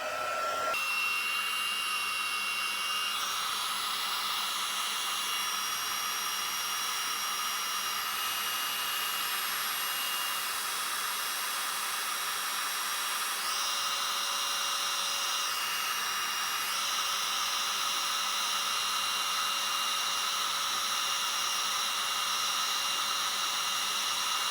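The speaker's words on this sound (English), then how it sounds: "Bringing the heat gun in, I'm going to turn it on and just let it warm up" A crafting heat gun runs continuously while warming up to melt embossing powder, producing a loud, steady high-pitched whine and airy rush with slight pitch shifts, heard alone.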